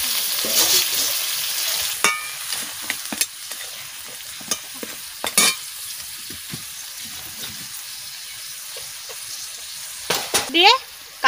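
Kashmiri chilli masala frying in an oil-filled wok: a steady close sizzle with sharp spatula scrapes and clatters at irregular intervals, a louder burst of stirring near the end.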